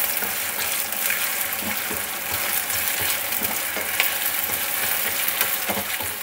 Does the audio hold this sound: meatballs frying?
yes